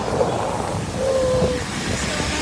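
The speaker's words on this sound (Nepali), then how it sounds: "साथीहरू हेर्नुहोस् त कत्रो पानी पऱ्यो" Heavy rain pours down outdoors, a dense, continuous hiss and roar that stays steady and close throughout with no voices.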